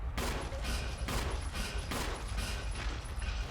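Rapid gunfire in a video game during an online Halloween party, a dense, loud burst of repeated shots with no pauses, filling the whole moment.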